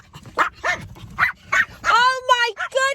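Excited dogs bark, yip and whine in quick, close bursts, with several rising high-pitched whimpers toward the end.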